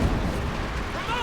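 An American anti-tank gun in Company of Heroes 2 lets off a single loud, booming shot with a rumbling tail, heard close and on its own.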